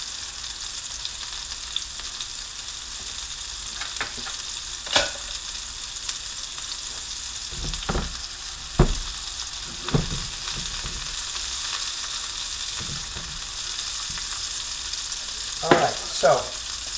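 Meatballs for wedding soup fry in a pan with a steady, close sizzle, broken by occasional soft knocks as they are moved, under a brief spoken phrase.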